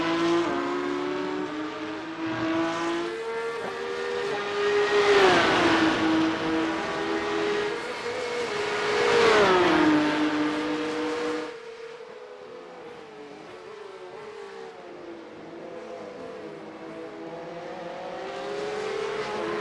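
A Porsche Cup race car lapping Oulton Park in a racing game, its engine note climbing and dropping through gear changes, loudest during two hard acceleration runs before easing to a lower steady drone.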